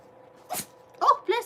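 A cat sneezes indoors, a sharp burst followed by two quick snuffly sneezes close by, with no talking over them.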